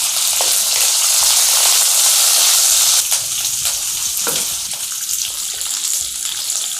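Mustard seeds, green chillies, onions and curry leaves sizzle and crackle loudly frying in oil in a pan, with scattered pops of bursting mustard seeds and a brief stirring scrape partway through.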